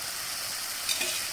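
Hot water bubbles vigorously in a pan of papaya pickle over a raised flame, a steady close-up sizzle and hiss with a couple of brief pops, no voices.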